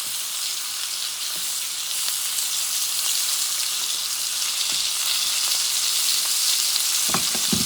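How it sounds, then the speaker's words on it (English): Beef tenderloin sears in a hot pan with butter, giving a loud continuous sizzle, with a few clicks and a pan clatter toward the end. "I'm going to flip it. See that nice crust? What I'm going to do is I'm going to add butter."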